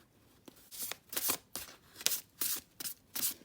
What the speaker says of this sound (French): Je vais essayer de les mélanger avec mes toutes petites mains